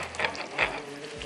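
Kofta meatballs of minced meat frying in oil in a pan, a steady close sizzle with a couple of brief louder crackling swells, no talking.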